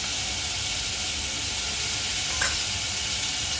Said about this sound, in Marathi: आपलं तेल चांगलं तापलं आपण घालूया जिरं इथे मी आलं लसूण आणि मिरची वाटून घेतली घालते